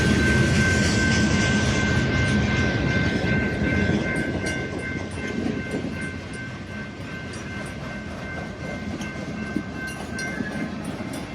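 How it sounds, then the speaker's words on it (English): A train rolls through a small Texas town, a loud continuous rumble and rattle of railcars that eases slightly in volume, with a faint high tone lingering throughout. "The train still rolls through town a couple times a day also"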